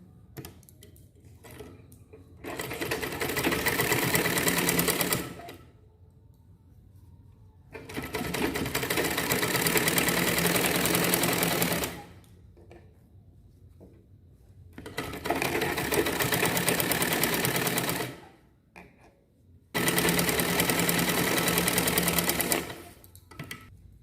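Sewing machine stitching the curved collar seam of a blouse, running in four long, steady bursts with short quiet pauses between them, loud and close.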